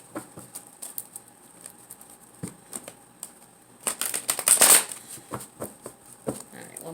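Tarot cards riffled and shuffled in quick, papery bursts, growing busier and louder midway, then settling into lighter handling.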